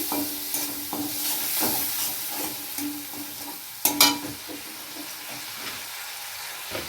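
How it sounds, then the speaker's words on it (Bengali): Ginger paste, chopped green chilli, bay leaf and turmeric sauté and sizzle in a pan for doi potol, with steady frying hiss, scattered stirring scrapes and a louder clatter around the middle. "আদা বাটা দিয়েছি, কাঁচা লঙ্কা কুচি দিয়েছি, তেজপাতা দিয়েছি, একটু হলুদ গুঁড়ো দিয়ে আমি এটা কষতে আছি"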